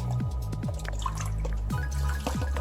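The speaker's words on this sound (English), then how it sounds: "Take a little bit of this braising liquid and rinse out our container here" Braising liquid from a beef braise drips and splashes as it is poured to rinse out a container, a run of close, soft liquid drops and trickles with no talking.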